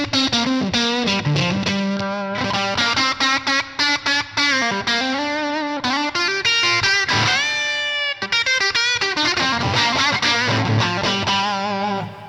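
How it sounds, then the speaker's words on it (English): Electric guitar played through an IK Multimedia TONEX modeler set to a Fender '65 Princeton drive tone, a continuous run of overdriven chords and single notes with chorus-like shimmer, loud and close, with no talk. "Tone prints, so a Fender 65 Princeton, it says drive"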